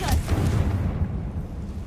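A Confringo blasting spell goes off in the Hogwarts Legacy video game, a dull low boom with a brief whoosh that rumbles at steady loudness for about two seconds before easing off.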